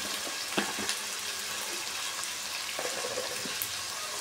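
Tomato fries in a pan with a soft, low sizzle, broken by a few light clicks and taps, as of stirring, close by and fairly quiet.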